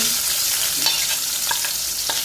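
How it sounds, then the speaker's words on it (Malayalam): Garlic, ginger and green chillies sautéing in hot oil, a steady close sizzle with a few light scrapes and taps of a stirring spoon, no voices. "അപ്പോൾ ഇതെല്ലാം കൂടി നമുക്ക് ഇതിനകത്ത് ഇട്ടിട്ട് ഒന്ന് മൂപ്പിച്ചു കൊടുക്കാം"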